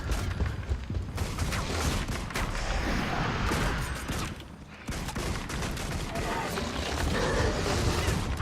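Deadeye gunfire aimed at a centaur in Guild Wars 2 sounds as loud, dense battle shots and booms. A single brief drop interrupts the barrage, and a voice can be heard under the din.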